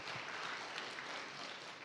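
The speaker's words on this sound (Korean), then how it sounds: "우리 박수로 환영하겠습니다" A church congregation at a Sunday service claps in welcome, a soft, even patter of applause heard from a distance with no voices over it.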